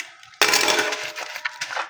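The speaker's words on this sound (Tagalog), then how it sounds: "Maghugas ako ng pinggan." Dishes being washed at a home sink, with a sudden clatter of plates and utensils starting partway in, then continuing rattles and clinks close by.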